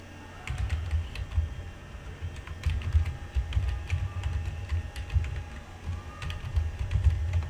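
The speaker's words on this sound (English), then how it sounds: "Type your email in here," Steady, quick typing on a computer keyboard, close by, with a low hum underneath and no voices.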